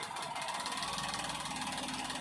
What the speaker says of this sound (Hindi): जैसे ही हम इस इंजेक्टर का कनेक्शन काटेंगे, आप देखना अलग ही प्रकार की इसमें जो है वाइब्रेशन आ जाएगी।